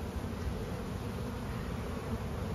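A dense, steady buzz of many honey bees humming together in a hive, continuous and close, with no pauses.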